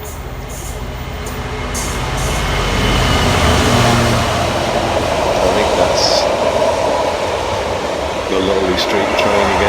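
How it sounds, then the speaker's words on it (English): A Marylebone service train rolls in to platform 2 at Warwick station. A broad, steady rumble builds over the first few seconds and then holds at a loud, close level. "here's a Marylebone service coming in to platform 2"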